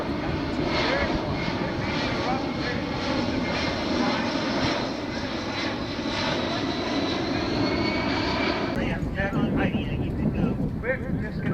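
A Boeing C-17 Globemaster III at the 2024 Dayton air show gives off a loud, continuous engine roar with gusty wind. A voice talks over it.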